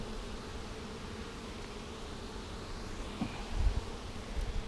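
Honey bees from an opened package colony hive drone in a steady, close buzzing swarm, with brief rustling and handling bumps near the end.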